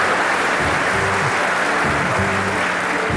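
A loud theatre audience at La Cage Aux Folles claps and applauds continuously, a dense wash of clapping with a few voices audible beneath it.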